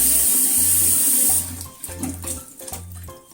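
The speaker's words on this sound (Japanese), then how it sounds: "これを洗います。 洗ってさっと土を取りますね。" Running tap water pours steadily over rakkyo shallots as soil is rinsed off, a bright continuous splash at first, then breaking into intermittent spatters and handling noises as the flow is interrupted.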